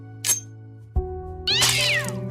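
Cartoon cat meowing in an animated comedy scene: a brief high cry, then a sudden thud and a longer, louder sweeping yowl over a steady musical score.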